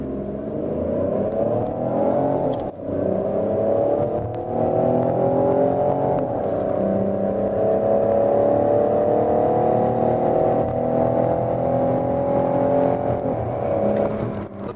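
A Peugeot 5008 SUV with the 1.2 PureTech engine accelerates hard in sport mode, its engine note climbing steadily through the gears with brief dips at each upshift, loud and continuous from inside the car.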